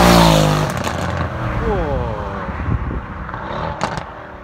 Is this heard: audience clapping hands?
no